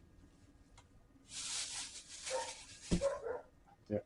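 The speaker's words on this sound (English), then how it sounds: "the dog next door, actually starts to bark." A neighbour's dog next door barks and whimpers in a short irregular burst, fairly distant and muffled, with a few sharper yips toward the end and a brief spoken word.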